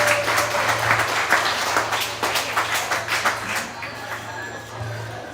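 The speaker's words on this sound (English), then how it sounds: "Give a big round of applause once again to Mason Crooks, player of the game against" An audience at a high school basketball coach's show applauds a player, a lively burst of close clapping with distinct individual claps over a low hum, tapering off toward the end.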